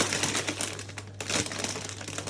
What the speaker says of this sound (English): I'm gonna be putting some crackers in